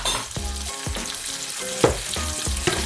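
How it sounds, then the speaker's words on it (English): Steak flash-fries in a hot pan with butter, a steady close sizzle and spatter with occasional stirring, no talk. "Literally, it's like a flat, quick flash fry."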